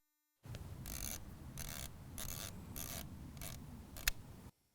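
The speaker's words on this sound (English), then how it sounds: "I'll use the tool and I'll turn it clockwise or towards the plus side to increase my arc." An adjustment tool turned in a Hunter PGP rotor sprinkler gives a steady run of close, crisp ratcheting clicks in several short bursts, with a sharper click near the end and no talking.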